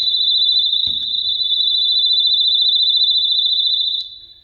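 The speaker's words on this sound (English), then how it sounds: "we do have an alarm system set up in here now and it's about to go off" A loud, piercing electronic security alarm tone sounds continuously at one high pitch inside a building housing an old Lincoln Continental, with a brief knock early on, then cuts off near the end.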